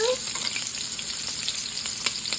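Cornstarch-coated shrimp fry for tacos in a pan, giving a loud, steady sizzle with crackling pops close by, uninterrupted and without talking.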